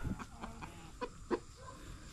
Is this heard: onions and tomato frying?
no